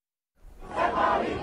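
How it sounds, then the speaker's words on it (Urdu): Crowd of student protesters chanting slogans together at a university in Tehran, a loud sustained roar of many voices rising after a brief silence. "تہران کی ایک یونیورسٹی میں وہ عامر کی موت کے نعرے لگا رہے ہیں۔"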